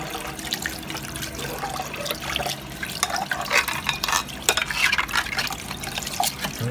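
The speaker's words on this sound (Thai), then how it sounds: "ล้างน้ำให้สะอาดครับผม" Cuttlebone pieces rinsed by hand in water, with continuous splashing, sloshing and trickling and occasional sharper splashes, close and moderately loud, with no voices.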